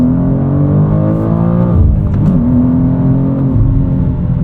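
A 2023 BMW M2 with the S58 engine and six-speed manual accelerates onto a highway at night, a loud, close, rising engine drone with a brief dip around a gear change before pulling again.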